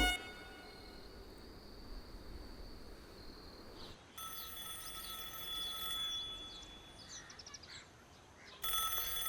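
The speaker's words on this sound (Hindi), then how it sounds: "फोन की घंटी सुनाई नहीं दे रही क्या?" A telephone rings in a Hindi-dubbed South Indian horror comedy film, a repeated electronic bell-like tone over background music that keeps cutting in and out across the scene.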